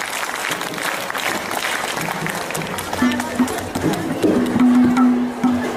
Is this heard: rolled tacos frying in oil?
no